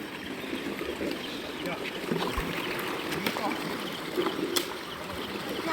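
Floodwater rushes along a village stream channel in a continuous broad wash, with a few splashes and knocks on top, heard from close by outdoors.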